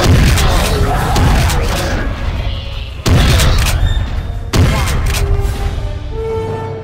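Game gunfire in Trespasser blasts at raptors in an arena, loud sustained booming bursts with sharp onsets and decaying tails, several heavy shots in quick succession.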